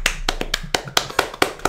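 A few hands clap in a quick, uneven rhythm, about eight sharp close claps over under two seconds, with no talk over them.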